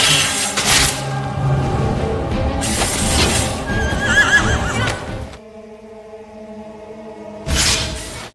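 Horses whinny loudly during a mounted duel in a kung fu action scene, several neighs in bursts separated by a quieter stretch, with a shimmer of other battle sounds around them.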